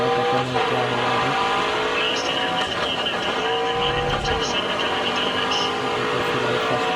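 Race cars in the AutoGrid mobile racing game, engines droning and whining continuously with tire squeals and shifting revs, loud and dense throughout.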